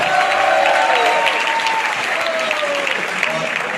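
A crowd claps at a live motivational meetup in Jaipur, dense continuous applause filling the room, with a faint tonal whistle or voice drifting over the clapping.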